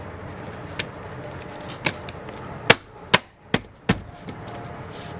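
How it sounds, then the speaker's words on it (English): Plastic trim piece on a Subaru Crosstrek interior being pressed back into place, a series of about seven sharp snapping knocks, sparse at first then closer together, with quiet background between. "And then your trim piece goes back on."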